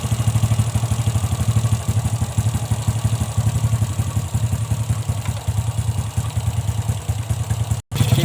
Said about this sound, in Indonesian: Sudah tersambung, kemudian kita hidupkan mesin.